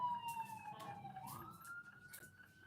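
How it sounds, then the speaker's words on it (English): An ambulance siren wails past at a distance, its tone sliding up and down and fading, faint and steady beneath quiet outdoor background with no talking. "We just heard an ambulance go by."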